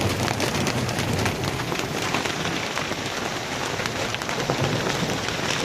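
Large hail pours down steadily in a dense, loud, unbroken hiss and patter, with no voices.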